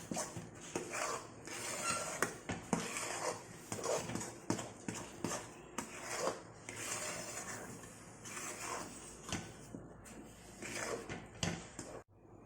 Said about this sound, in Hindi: इसे हम अच्छी तरह से मिक्स कर लेंगे।